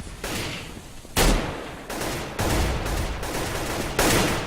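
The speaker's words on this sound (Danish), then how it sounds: "Hvad, jeg bliver skudt for hårdt, man." Gunfire in the video game CS:GO: several loud bursts of shots in quick succession, with sharp blasts recurring about every second amid continuous battle noise and no talking.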